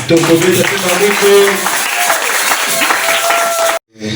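A church congregation at a Kinshasa prayer meeting claps and cheers as the pastor steps forward, with loud sustained applause and voices blending over music, then cutting off abruptly near the end.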